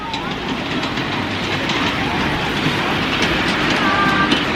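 A miniature ride-on train at Swissminiatur in Ticino rumbles past with steady rolling clatter under a broad wash of outdoor noise, fairly close and continuous throughout.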